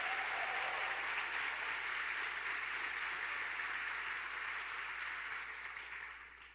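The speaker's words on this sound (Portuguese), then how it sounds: "Pode aplaudir porque Ele é digno." A church congregation applauding together, a broad continuous wash of clapping that holds steady and then gradually fades toward the end.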